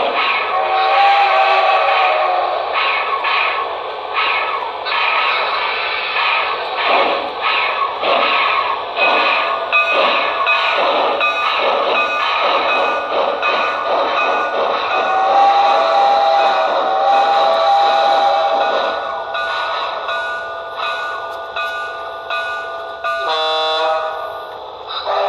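An Intermountain AC-12 Cab Forward model train runs along a track with a sustained mechanical hum and chuffing, its whistle sounding repeatedly in long tonal blasts throughout, loud and close with no talk.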